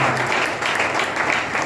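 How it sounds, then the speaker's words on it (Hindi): A church congregation applauds, giving a dense, steady burst of clapping nearby. "मुझे लगता है कि हम थोड़ा और जोर से तालियां बजा सकते हैं।"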